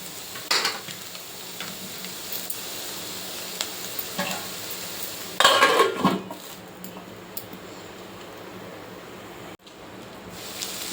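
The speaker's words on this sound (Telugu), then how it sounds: "క్యాప్సికమ్ వేసిన తర్వాత త్రీ మినిట్స్ ఆయిల్లో మగ్గాలండి" Carrot, capsicum and potato fry in oil for a curry with a steady low sizzle, broken by a few scraping stirs and one louder clatter of the pan midway.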